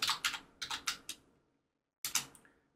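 Keys click on a computer keyboard while a question name is typed into a Moodle quiz form: a quick run of distinct, close taps, a pause, then two more strokes.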